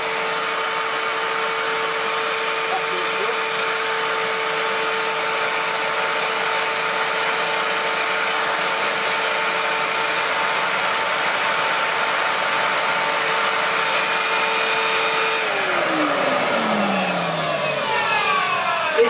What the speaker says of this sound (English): And I'll turn it on and we'll see if we can see it spinning.